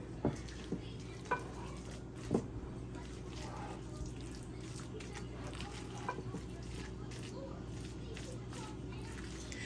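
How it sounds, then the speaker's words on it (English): A spoon works mayonnaise into a crab stuffing in a bowl for stuffed shrimp, making soft, wet stirring sounds and a few light clicks against the bowl, quiet and close under a steady background hum and a voice talking. "Trying to make sure I mix up all that mayo."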